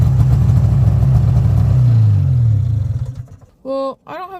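A 1993 Arctic Cat 440 Jag snowmobile engine cold-starts, running rough and loud with a wavering low drone that sputters and dies away, then a voice speaks briefly near the end.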